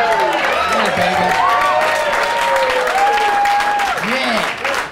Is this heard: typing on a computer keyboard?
no